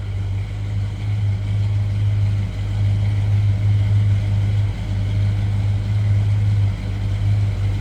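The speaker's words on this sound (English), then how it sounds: "A little rumble coming out of that V8." A 1954 Dodge half-ton pickup's V8 idling, a steady low rumble that stays even throughout at close range, with no talking.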